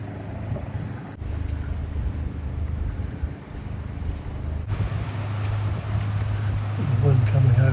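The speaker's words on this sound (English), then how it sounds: "The wind coming over the ridge." Strong wind pours over a ridge beside a sailboat anchored in a bay, making a steady roaring rush with low buffeting gusts that swell toward the end.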